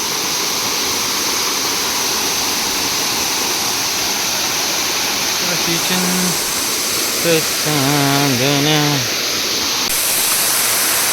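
Steady roaring rush of a small waterfall on a plateau in the Konkan region fills the whole clip, with a voice briefly speaking partway through over the constant spray.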